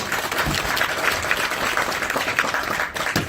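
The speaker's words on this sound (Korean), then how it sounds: "좀 잘 다니고 올 수 있게 박수 한번 부탁드리겠습니다." An audience at an orientation for a US English camp applauds, a continuous, fairly loud patter of many hands clapping with no talk over it.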